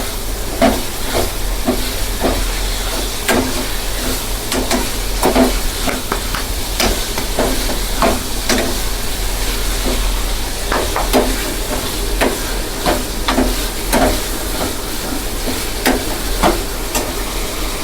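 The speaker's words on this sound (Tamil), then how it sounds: "வதக்கி விட்டு நன்றாக வதக்க வேண்டும்" Crab curry ingredients being sautéed in a pan, with repeated scraping and stirring strokes over a steady, close frying hiss that carries on throughout without any talk.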